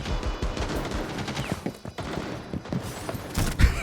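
Shotgun fire in the tactical shooter Rainbow Six Siege comes as a rapid scatter of sharp blasts and clatter over constant game noise, close and punchy, with the loudest shot landing at the very end.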